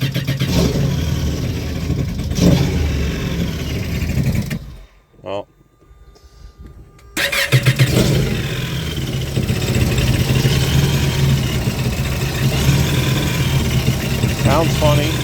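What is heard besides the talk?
personal watercraft engine starting and running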